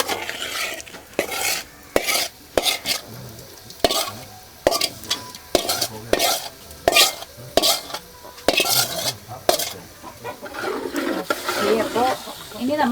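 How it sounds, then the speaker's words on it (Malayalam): Pork and vegetables being sautéed in a pan for a Kerala-style pork curry, with repeated sharp scrapes and clanks of a spoon against metal over a low sizzle, close and loud, arriving in uneven bursts. "അപ്പോൾ ഇനി നമ്മളൊന്ന് അല്പനേരം അത് വഴറ്റിയെടുക്കാം."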